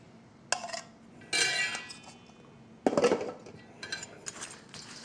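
Chopped dill pickles stirred into a cup, giving several clinking, scraping bursts of utensil against the cup, close and fairly loud, spaced irregularly with quiet gaps between.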